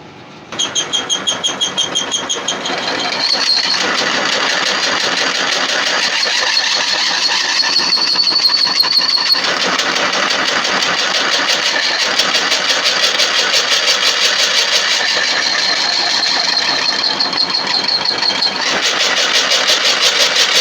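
A 1D601 lathe runs steadily while turning and drilling a faceplate part, giving a loud, continuous mechanical whine and hum with a brief rhythmic ticking at the start and small shifts in pitch over about twenty seconds.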